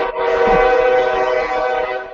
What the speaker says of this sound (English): That one, it was loud. Train.